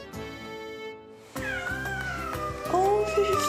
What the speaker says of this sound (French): Ils sont au total 28 chats répartis dans plusieurs pièces.